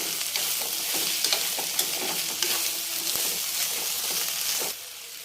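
Salted ivy gourd (tondekai) fries in a pan with a steady close sizzle, stirring scrapes and small crackles running throughout, then drops quieter near the end; no voices.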